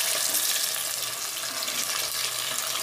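Fish frying in oil in a pan over a low-to-medium flame, a steady, dense sizzle that stays even and close throughout with no pauses and no talking.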